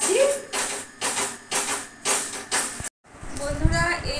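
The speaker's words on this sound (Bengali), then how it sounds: "আমি ব্রেকফাস্টের তো রুটি ভাজছি।" Roti flatbread frying in a pan for breakfast, a rhythmic series of sizzling hisses in regular pulses, each swelling and fading, followed by a brief pause and more sputtering, close and fairly loud.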